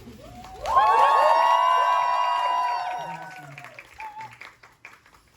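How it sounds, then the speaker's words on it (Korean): Musical theatre audience cheering and shouting at a curtain call, a loud burst of whoops and screams rising suddenly, holding for a couple of seconds, then fading into scattered voices and chatter. "크나큰 박수는 못 치니까 함성 소리로 한번 고생했다고"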